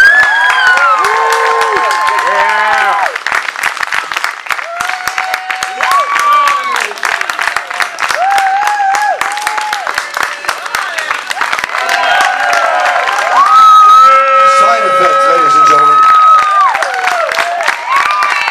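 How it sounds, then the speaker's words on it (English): Crowd at an outdoor summer concert in Leominster cheering and applauding a cover band, loud sustained clapping with whoops, shouts and children's yells rising over it, swelling again near the end. "Give them a round of applause."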